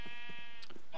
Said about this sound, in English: And my sheep, are you guys okay?